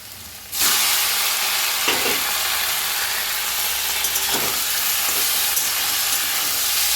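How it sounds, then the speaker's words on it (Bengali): Leafy greens hit hot oil with fried onion and tempering spices, bursting into a loud, sudden hiss that settles into a steady close sizzle, with a few soft stirring knocks and no speech. "একটু এদিক ওদিক নাড়াচাড়া করে নেবো, যাতে পেঁয়াজ আর ফোড়নটা ভালো করে শাকের মধ্যে মানে মিলিয়ে যায়।"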